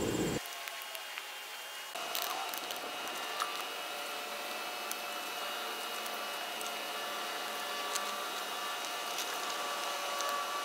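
A small battery-powered fan hums steadily as it blows into a DIY rocket stove outdoors, with a continuous airy whir and faint crackles and ticks underneath.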